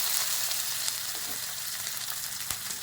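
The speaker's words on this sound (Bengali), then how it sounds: "শুকনো লঙ্কা, তেজপাতা আর গোটা জিরে দিয়ে ফোড়ন দেব।" Dried red chillies, bay leaves and whole cumin tempering in hot mustard oil, a loud continuous crackling sizzle with faint pops throughout, close by and without any talking.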